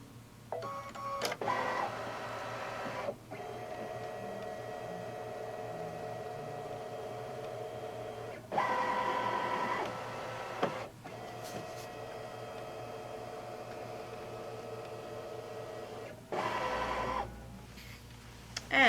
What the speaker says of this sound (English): I'm going to tell the machine to scan.